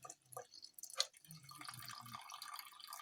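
Gold-plated porcelain material being rinsed in water during gold refining, with a few distinct drips and small splashes followed by a soft, continuous trickle of liquid up close.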